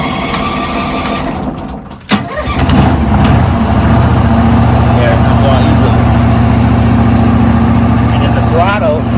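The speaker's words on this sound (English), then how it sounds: "it's a machine, let it warm up for a second." A carpet cleaning machine's own engine, fitted with choke and throttle, cranks and starts with a key, then settles into a steady, loud idle as it warms up, with a voice speaking over it.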